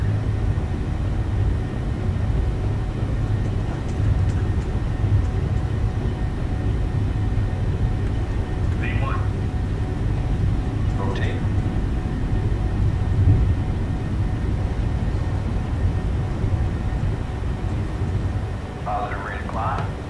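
Boeing 737 jet engines roar steadily at takeoff thrust, a constant broad rumble heard from inside the cockpit, with a pilot's voice and faint chirps over it.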